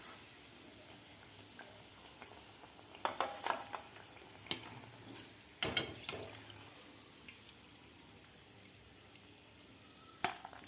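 Mixed vegetable pakoras deep-frying in oil, a quiet continuous sizzle broken by scattered clicks and clatters, one louder burst in the middle.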